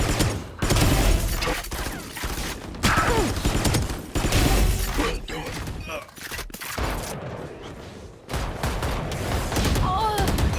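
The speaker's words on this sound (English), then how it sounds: "Swarm grenade out." Swarm grenade explosions in a Valorant match, a loud burst of rapid crackling blasts and gunfire repeating over about ten seconds, with game voice lines and people talking over the action.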